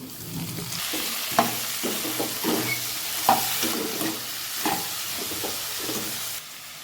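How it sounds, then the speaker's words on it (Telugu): Tomatoes go into a pan of bitter gourd curry and sizzle steadily while a spoon stirs and scrapes in repeated strokes, close up and fairly loud, with no talking. "ఇప్పుడు టమాటా వేసుకుందాం"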